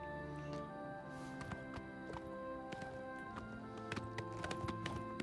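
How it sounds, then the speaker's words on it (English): Horse hooves clip-clop in a fast gallop rhythm in the Oblivion Remake video game, with repeated sharp hoof strikes over a steady background of game ambience. "being able to sprint on a horse is actually nice"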